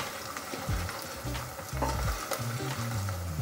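Chopped garlic and ginger fry and are stirred in a pan while cooking a naati-style South Indian chicken curry, a close steady sizzle broken by scraping and clanking strokes of the spoon, with no talking.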